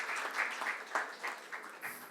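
Audience at a Hindi poetry gathering (kavi sammelan) applauds to welcome poet Dr. Lakshmi Shankar Vajpeyi, with dense, continuous clapping from a crowd, loud and close for a couple of seconds.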